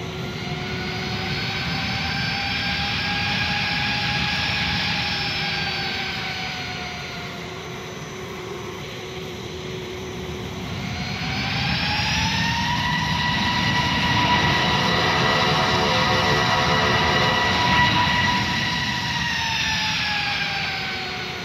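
Boeing 777 jet engines spooling up, a loud steady whine that rises in pitch, eases back, then climbs again over a constant low roar.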